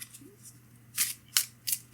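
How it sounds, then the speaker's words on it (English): Deck of playing cards being shuffled for a tabletop card game, three short crisp riffling bursts close to the listener, with no talk. "You're going to shuffle up your deck"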